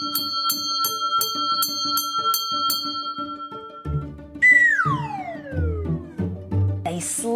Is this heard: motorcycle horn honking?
no